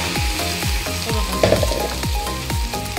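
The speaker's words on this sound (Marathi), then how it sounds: "याच्यात टाकून फ्राय करून घेऊया चटणी आपण" Dried bombil chutney fries in hot oil, making a steady crackling sizzle. Regular low thuds from stirring run through it, with no voices.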